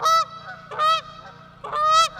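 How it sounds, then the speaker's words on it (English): Geese fighting each other give three loud, harsh honks in quick bursts close by, with short pauses between calls. "I think that the geese are fighting each other"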